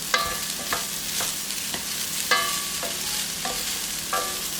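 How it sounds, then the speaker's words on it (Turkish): Firik wheat roasts in butter in a pan with a steady sizzle while a spoon stirs it. Several distinct scraping strokes ring out against the pan at an uneven rhythm, close and clear, with no talk. "Bunu iyice kavuracağım önce tereyağıyla."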